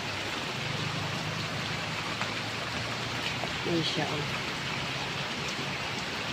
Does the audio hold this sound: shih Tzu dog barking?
no